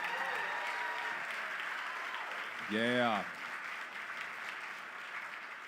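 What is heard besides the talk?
audience applause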